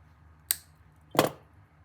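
Jewelry wire is trimmed off a wire-wrapped pendant loop, giving two short, sharp snips close by about three quarters of a second apart, the second louder and fuller.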